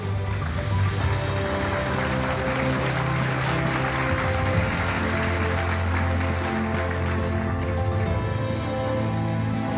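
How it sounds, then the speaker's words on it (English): At a banking technology conference awards ceremony, a large audience applauds in a continuous, hissing wash of clapping that runs for about ten seconds over steady background music. "Ladies and gentlemen, can we have a round of applause for the bank,"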